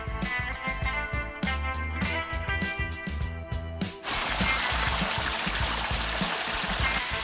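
A rain shower falls on a hiking trail in the Great Smoky Mountains, a dense, steady hiss of rainfall that takes over after a stretch of rhythmic music.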